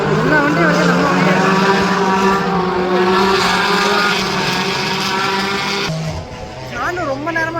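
Race cars on the Misano circuit scream past with loud, sustained engine whines that shift in pitch as they go by, fading slightly near the end before another car surges in.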